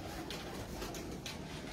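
Flying pigeons kept at a loft by a pigeon fancier coo faintly in the background, soft and distant, with no voices nearby.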